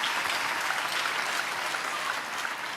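A church congregation claps together in a sustained, dense burst of applause that stays even and fairly close throughout.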